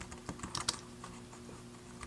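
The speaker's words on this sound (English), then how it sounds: "I don't know if you guys can see it, but I will be typing." Typing on an Arteck HB030B backlit Bluetooth keyboard, a quiet run of soft, irregular key clicks with a few sharper taps, close by and without talk.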